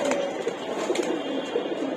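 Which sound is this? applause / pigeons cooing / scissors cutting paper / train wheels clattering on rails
pigeons cooing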